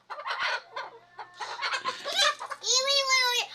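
A 4-month-old Rhode Island Red chicken clucks in a series of short, close calls, ending in a longer drawn-out squawk.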